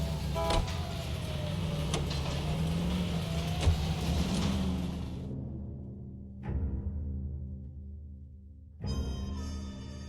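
Car engine hum from driving in L.A. Noire, a steady low drone with a rising and falling whine that cuts out, followed by two brief bursts of sound after a gap of near silence.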